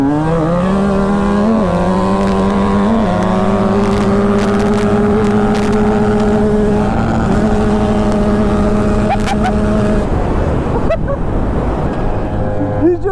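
A small four-stroke 250F dirt bike engine screams at a constant high pitch while held against the rev limiter in top gear during a flat drag run, a loud, close, buzzing drone with slight wavering before fading near the end.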